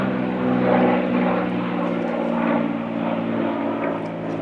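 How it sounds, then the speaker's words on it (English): A propeller airplane drones overhead outdoors, a loud, steady engine hum with a rich tonal whine that swells slightly and holds throughout, with no talking. "Planes, planes, planes."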